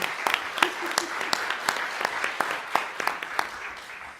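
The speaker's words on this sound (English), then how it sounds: "Let's give a round of applause" Scattered audience clapping at a business seminar, a moderate round of applause with sharp individual claps, steady for a few seconds before tapering off.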